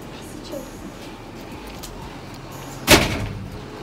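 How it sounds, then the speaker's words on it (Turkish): A door swings shut indoors at a holiday villa, landing as one sharp, loud thud near the end after a quiet stretch of room noise. "Kapıyı kapat ya birileri girerse."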